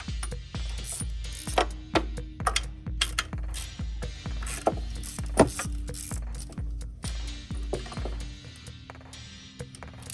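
A ratchet wrench clicks rapidly in repeated bursts as intake manifold bolts are loosened on a GMC Acadia engine, close up, with metallic taps and clinks between strokes and no talking.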